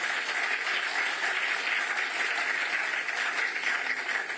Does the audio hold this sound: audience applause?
yes